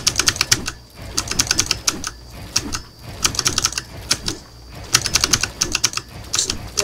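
Rapid clacky keystrokes on a Razer Huntsman Mini keyboard during Fortnite gameplay come in dense bursts separated by short pauses, close and crisp throughout.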